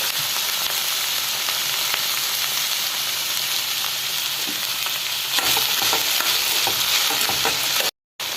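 Okra stir-fry with onion, green chilli and curry leaves hisses loudly in a hot pan, with steady sizzling broken by scraping stirs that grow busier toward the end.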